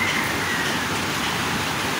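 Rain beginning to fall on a large wooden fishing boat under repair, a dense steady hiss of drops close by, with no voices.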